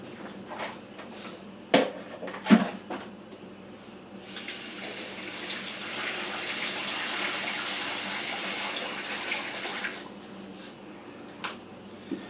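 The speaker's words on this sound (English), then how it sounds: "add enough water to cover the prunes." Tap water running steadily into a big pot of prunes in a home kitchen, a continuous close gush lasting several seconds, preceded by a few clunks of handling the pot and ending with more light knocks.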